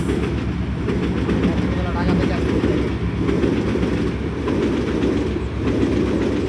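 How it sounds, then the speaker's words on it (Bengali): The Rangpur Express train rolls past close by, loud rumbling with a rhythmic clickety-clack of wheels over rail joints, continuous throughout. "আমাদের ট্রেন যাচ্ছে"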